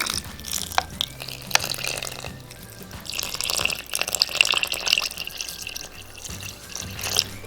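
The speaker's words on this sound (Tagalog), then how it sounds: "Ngayon pong medyo nagkulang yung ating gata ay dadagdagan natin ng water." Water poured into coconut milk in a pot while cooking kalamay with pineapple, a soft continuous trickle and splash with small drips, close and fairly quiet, with no talk.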